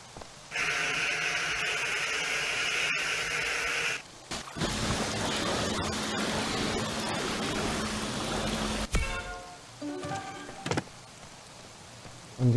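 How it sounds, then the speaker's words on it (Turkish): A car being washed in Car Dealership Simulator: a steady hiss of spraying water runs in long stretches, broken by short pauses and a few clicks, with no talking over it. "Hemen şu arabayı bir yıkayayım."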